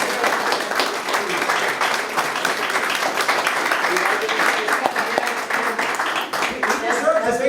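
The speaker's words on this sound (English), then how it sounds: "let's give a round of applause." Sustained audience applause fills a tribute event for an architect, a dense, steady wash of many hands clapping at close range that holds for the whole stretch.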